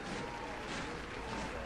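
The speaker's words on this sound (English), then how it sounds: "Crowd applauding the troops." Crowd applauding troops at a military rally in a video game scene; a dense, steady wash of clapping and crowd noise, moderately distant, with no clear individual claps standing out.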